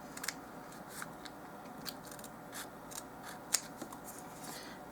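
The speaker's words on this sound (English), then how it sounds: "Now I'm going to cut." Scissors cutting paper along a drawn line for a doll-size craft, a run of soft crisp snips and crunches, close and quiet, with one sharper snip near the end.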